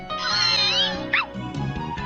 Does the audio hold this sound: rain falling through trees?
no